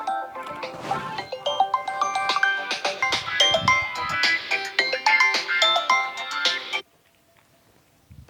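A phone rings with a bright, looping electronic melody for several seconds, then cuts off into silence.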